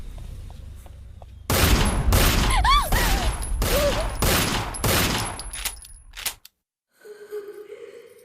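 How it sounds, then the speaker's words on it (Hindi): Rapid bursts of gunfire in a Hindi film scene, several sharp volleys close together with whistling ricochet-like sweeps over them, loud and up front, then cutting out to near silence before faint background sounds return. "गोली से उड़ा दे साले को"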